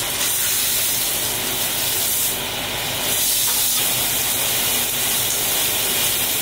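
A New York strip steak sears in a hot pan, giving a steady, loud, dense sizzle and hiss with a brief surge partway through as it is turned with tongs.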